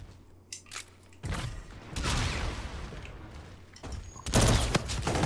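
Burst-fire weapon shots crack in Call of Duty Infinite Warfare gun game, several loud close bursts with gaps between them over low background game noise.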